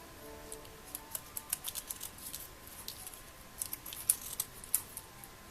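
Big scissors snip through flower stems across the base, a quiet series of sharp clicks and crisp cuts in an irregular rhythm, close by and with no talk.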